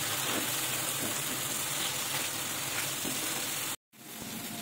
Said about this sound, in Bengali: এরপর মশলাটা কষিয়ে নিচ্ছি।